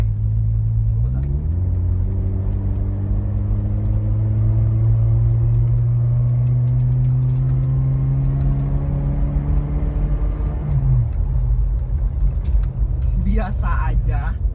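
A 1997 Toyota Kijang LGX with a carbureted engine and automatic transmission accelerates hard, its engine note climbing steadily in pitch over several seconds and then dropping at a shift, loud and close, with brief talk near the end.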